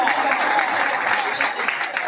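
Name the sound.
applause for Ustad Naveed's brother at pigeon club prize event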